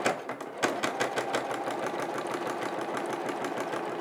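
A sewing machine quilting a patchwork quilt block, its needle hammering in a fast, steady rhythm that starts and stops briefly before running continuously, close and moderately loud.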